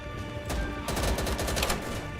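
Gunfire in the Easy Red II video game: a single sharp shot, then a rapid burst of several loud shots in quick succession, close and dense, with no talking.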